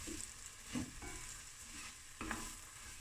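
Pieces of boeber frying in butter are stirred in a quiet pan, a couple of distinct scrapes rising over a soft, low sizzle with no one speaking.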